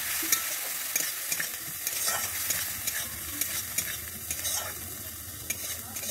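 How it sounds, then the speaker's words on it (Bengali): Spices and turmeric sauté in oil in a pan for a vegetarian curry, a close, steady sizzle broken by a spatula stirring and scraping at irregular moments, heard alone with no talk. "দিয়ে আমি এখানে একটু কষিয়ে নিচ্ছি।"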